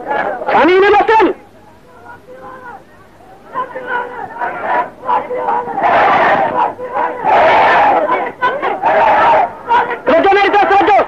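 Crowd chanting slogans in loud bursts at a religious speech, voices swelling together in repeated surges between stretches of a single speaking voice and a quieter pause.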